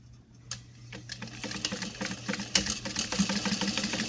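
Sewing machine stitching through fused fleece interfacing, a steady mechanical hum that builds into a rapid rattling stitch rhythm, close and moderately quiet, without speech.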